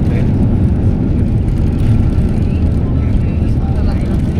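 An airplane rolls out after landing at Zurich Airport, heard from inside the cabin as a loud, steady engine and road rumble with broadband roar and no distinct events.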